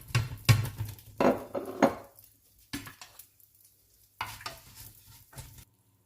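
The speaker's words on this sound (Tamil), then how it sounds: "நெய் சூடாகிடுச்சு. நம்ம தடுக்க கொட்டிக்கலாம்." Tempering tipped into hot ghee for a green gram dhal, giving close bursts of sizzling and stirring with metal pan clatter, in several short loud spurts separated by brief pauses.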